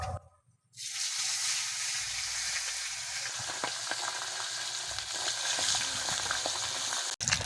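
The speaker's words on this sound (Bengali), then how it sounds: "একই রকম ভাবে বাকি মাছগুলো ভেজে নেব।" Pabda fish frying in hot oil, a loud close sizzle that bursts in after a brief hush and then holds steady and hissing throughout, with no talking.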